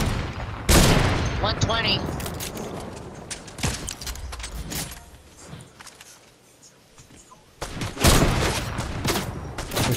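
Fortnite gunshots crack out in loud separate bursts, with a cluster near the start and more toward the end, while players talk in between.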